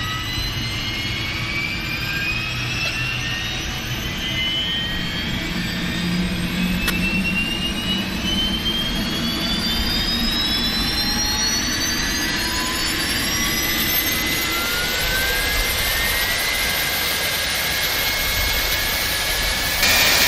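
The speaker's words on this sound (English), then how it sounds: "We'll go outside, listen to the APU fire up." Aircraft auxiliary power unit starting up in the X-Plane 11 flight simulator game, a rising turbine whine that spools up steadily over a low rumble, climbing in pitch and settling into a loud sustained jet hum.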